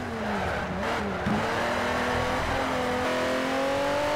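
A Ferrari 512 race car engine in the driving game Ferrari Racing Legends drones steadily at high revs, with a shifting pitch as gears change and a continuous loud roar throughout.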